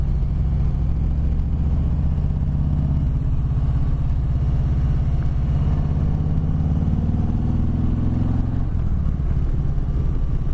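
A 2020 Harley-Davidson Sport Glide engine gives a loud, close, deep low rumble that runs steadily throughout, its pitch shifting slightly near the end, with no talking.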